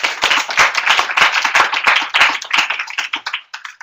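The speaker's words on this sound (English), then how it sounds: "a round of applause for Leo and Sumi" Small audience applause at a university lecture for two helpers, a handful of people clapping with distinct, sharp claps in an uneven rhythm that gradually thins out over a few seconds.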